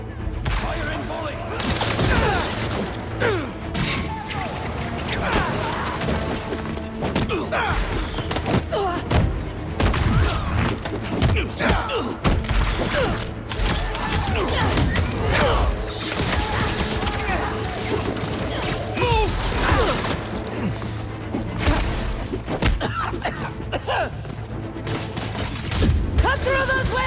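In Marvel's Spider-Man 2, enemies fire a dense, sustained volley of gunshots with thuds and mechanical clatter, loud and continuous over the whole stretch, while voices shout over the din.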